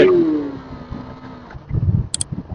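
A KTM 390 Enduro R motorcycle engine runs in street mode while riding, a steady moderate drone that settles, then picks up with rougher throttle bursts near the end.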